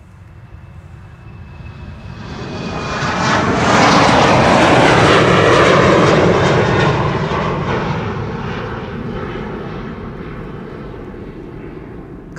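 An Airbus A350 jet departs Amsterdam Schiphol Airport bound for Detroit, its engine roar swelling as it passes close, peaking loud and broad, then slowly fading away.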